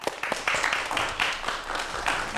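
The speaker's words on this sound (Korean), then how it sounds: "자, 박수로 청해 보도록 하겠습니다." An audience welcoming a KAIST life sciences professor to a lecture on lifespan and aging gives steady, fairly soft applause that carries on throughout.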